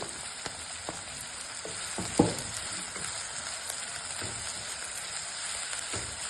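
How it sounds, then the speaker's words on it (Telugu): Chopped onions and green chillies fry in a pan with a steady, quiet sizzle, broken by a few scraping stirs and one sharper clink of the spoon against the pan. "ఉల్లిపాయలు చిన్న చిన్న కట్ చేసుకున్న ఉల్లిపాయలు పచ్చిమిర్చి వేసుకొని వాటిని కలబెట్టుకోవాలి"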